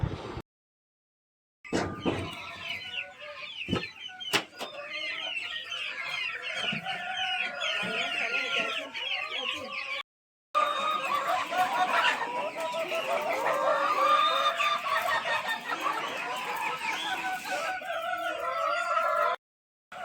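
A flock of chickens clucking and squawking continuously, loud and busy, with brief gaps of silence and a few sharp clicks early on.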